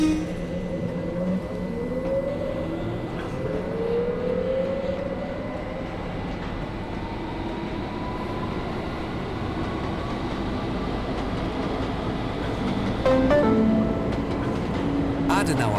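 U-Bahn train running in the Trainz 2009 train simulator: a continuous rumble and rolling clatter with rising motor whine, steady throughout, with a few brief squeals near the end.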